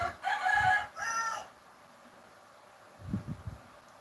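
A rooster crows twice in the distance, followed by a few low thumps, with a quiet background and no talking.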